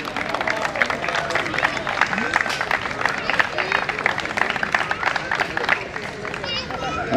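Crowd applause and clapping at a prize ceremony for a memorial sports tournament fill the room continuously with dense, steady hand claps, the audience loud and close, with crowd murmur underneath and no distinct speech.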